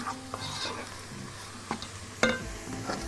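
Fried fava beans stirred in a hot pan: a steady sizzle under scraping spoon strokes, with a few sharper knocks against the pan, close and alone.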